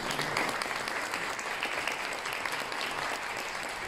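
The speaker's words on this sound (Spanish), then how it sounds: "un aplauso por favor para el maravilloso y espectacular elenco detrás de grande cámara" An audience applauds the cast of the Narcos series at a press event, a dense, steady round of clapping that holds evenly throughout without breaks.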